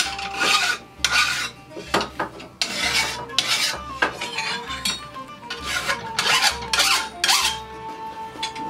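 A metal file rasps in steady push strokes along the edge of a weapon blade, rounding off sharp edges; about a dozen rhythmic, close, scraping passes with short pauses between, no talking.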